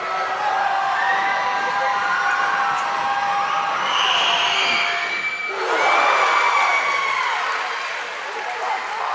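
The crowd at a high school basketball game between Wonderview and MVE keeps up a steady roar with cheering in a gym, and a commentator talks over it.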